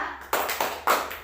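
Hands clap together in a classroom as children chant, three sharp, evenly spaced claps ringing out close by.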